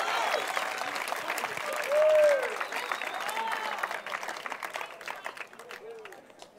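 Spectators at a women's pro pickleball doubles match in Newport Beach break into applause after a powered shot, a steady patter of clapping that gradually thins out, with whistles and crowd noise mixed in.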